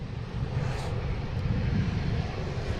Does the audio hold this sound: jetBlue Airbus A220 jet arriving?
yes